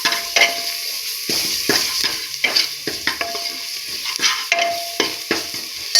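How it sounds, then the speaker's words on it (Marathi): Crushed ginger and garlic sizzle with browned onion in a pan, with repeated stirring strokes and spoon scrapes every half second or so over a constant close frying hiss. "अद्रक लसूण ठेचून टाकायचं"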